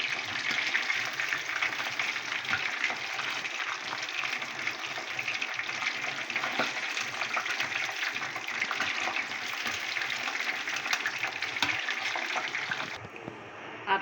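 Chicken pieces deep-frying in hot oil for a fried chicken broast, a steady dense bubbling hiss that carries on unbroken and close, with no talking.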